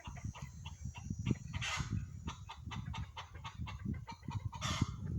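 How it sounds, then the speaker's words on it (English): Backyard chickens cluck loudly and repeatedly after laying eggs, a steady run of squawks with a few sharper cackles rising above them. No one speaks. "The whole community knows when my chickens lay eggs."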